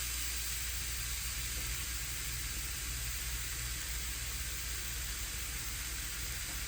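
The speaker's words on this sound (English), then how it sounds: "Hear that sizzle" Steady, bright sizzling of large burger patties frying in a hot pan, continuous and close, with a constant hiss and no talking.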